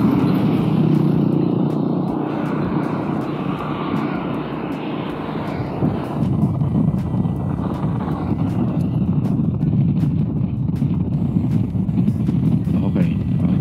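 An NWOW WSP motorcycle on new 100/90/12 and 110/90/12 tires runs at full throttle, a steady loud engine roar and road drone holding throughout, with a person speaking over it.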